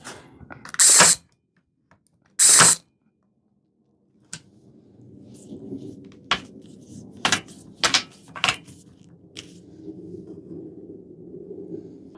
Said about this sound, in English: Inserting the 2 centimeter 20 millimeter nails, just like that.